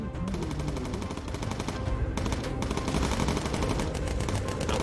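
Bomber gunners blast away with machine guns in Bomber Crew, a dense, continuous stream of rapid, loud gunfire with overlapping bursts that barely pause across the whole stretch.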